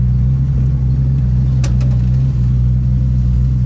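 Deep, steady V8 burble from a 1968 Ford Mustang Coupe, a loud, close, lumpy low rumble that holds without pause, with a brief faint clink partway through and no talking.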